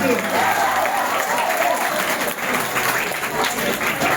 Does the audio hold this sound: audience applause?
yes